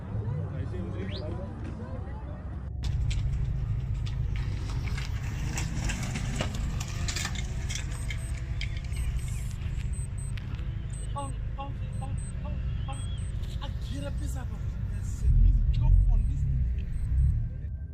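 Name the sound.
BMW M3 car engine during street race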